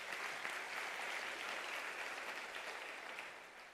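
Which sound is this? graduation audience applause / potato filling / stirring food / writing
graduation audience applause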